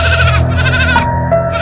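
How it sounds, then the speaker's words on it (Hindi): A goat tethered outside a house at night bleats loudly and close, with two strained, wavering calls one after the other. "घर के बाहर बंधी बकरी जोर जोर से आवाज करने लगी"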